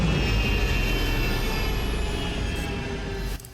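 Loud, steady roar of spaceship engines during a landing in the game Star Citizen, with a high whine gliding across it before the rumble cuts off abruptly near the end.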